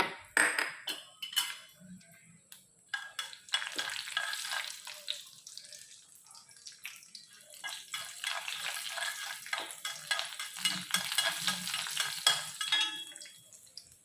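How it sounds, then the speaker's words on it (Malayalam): A spoonful of urad dal crackling in a hot pan for a kovakka ullikaram curry, a bright sizzle that rises and swells with stirring, clinking and scraping throughout, close and without talk. "അതിലേക്ക് ഞാൻ എടുത്ത് വെച്ചിരിക്കുന്ന ഉഴുന്നുപരിപ്പ് 1 സ്പൂൺ ഇട്ട് കൊടുത്തിട്ടുണ്ട്"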